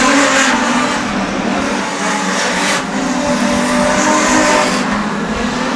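Production sedan race cars circle a short oval track, their engines roaring continuously in a dense blended drone from close by, with faint tire squeal in places.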